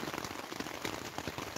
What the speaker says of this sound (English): So if you can hear that, that is pouring down,